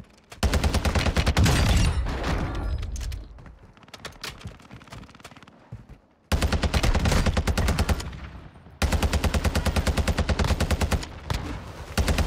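Heavy automatic gunfire from the TAQ-V rifle in Warzone 2 on Ashika Island, loud sustained bursts of rapid shots separated by brief pauses, with a short lull of scattered shots in the middle.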